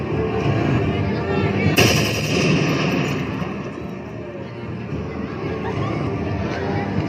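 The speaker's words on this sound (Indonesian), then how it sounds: "perwira komunis pun menambaki kamar jenderal" Gunfire from a staged colonial-era military drama, soldiers shooting into a general's bedroom: a sharp loud crack near two seconds over a dense, continuous rumble of crowd noise and commotion.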